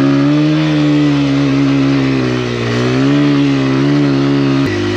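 A Honda XR100R dirt bike engine rides through snow, loud and close, a steady buzzing drone with its pitch rising and falling as the throttle shifts, then a sudden dip near the end.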